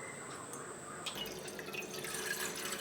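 Water is poured from a glass into a pot while making sukku malli coffee with dry ginger and coriander, a steady trickling splash running throughout and brightening toward the end.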